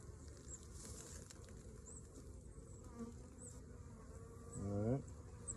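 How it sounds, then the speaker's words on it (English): A steady, dense buzzing of many honeybees on a hive frame during a hive inspection fills the scene up close, with a louder drone swelling near the end as a bee passes nearby. "It's a nice little frame of bees right there."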